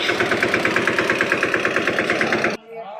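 A tractor engine idles while parked, a steady close rumble with a regular rhythmic pulse that cuts off near the end, leaving a few faint quieter sounds.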